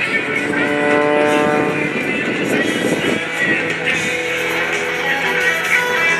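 A Pitts S2S aerobatic biplane makes a low pass at an air show, its loud, droning engine rising and shifting in pitch while an announcer talks over it.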